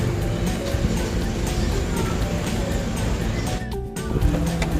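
Sea waves at Suan Son beach in Rayong, a steady broadband wash of surf with wind buffeting the microphone and a brief lull near the end.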